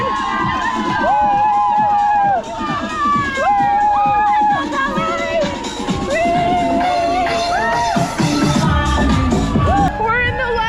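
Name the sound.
crowd cheering at half marathon cheer station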